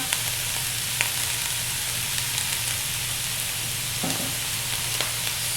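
Garlic cloves and scallions sizzling in a pan, a continuous close crackling hiss with faint clicks of a utensil, steady throughout and without talk.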